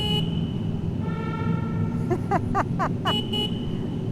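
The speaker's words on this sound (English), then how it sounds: "We gotta honk a horn." Car horn toots out a quick rhythmic pattern of short honks over the steady rumble of road traffic inside a vehicle, on a road trip through Utah's national parks.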